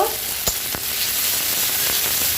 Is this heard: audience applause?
no